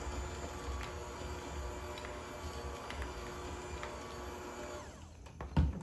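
A hand or stand mixer beats softened butter with half a cup of powdered sugar on low speed, giving a steady, fairly quiet motor whir with a soft churning texture. A brief clunk comes near the end.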